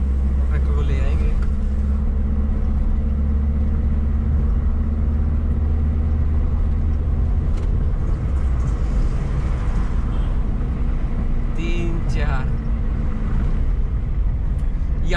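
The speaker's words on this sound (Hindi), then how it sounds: "वापस घुमा के ट्रैक्टर को ले आएंगे" Farmtrac Champion tractor, nine years old, engine droning steadily as it drives along a road and turns back, a loud continuous low rumble with occasional higher noises over it.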